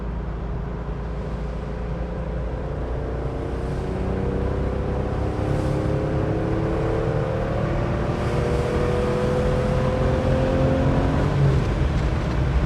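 A 1972 Citroën SM with a Maserati engine accelerates through the gears, revs climbing steadily and then dropping at each shift. Heard from inside the car at moderate level, with no talking.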